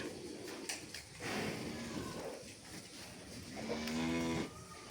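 Deep, drawn-out moos from bulls of about 250 to 300 kg close by in a shed, two long calls with a rustling, echoing background between them.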